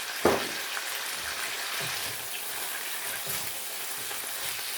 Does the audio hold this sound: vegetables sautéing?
yes